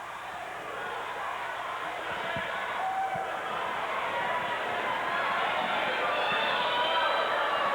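Arena crowd at a 1998 WWF wrestling house show in Salem, Massachusetts, a broad roar that swells steadily louder, with chanting buried in the noise and occasional thuds beneath.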